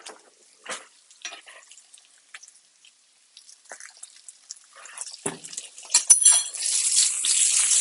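Squash frying in a hot pan: scattered pops and crackles that build into a steadier, louder sizzle toward the end.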